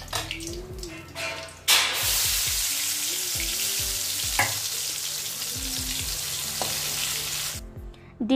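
Eggs fry in a pan at home with a steady, close sizzle throughout, broken by a few sharp clinks and stirring sounds.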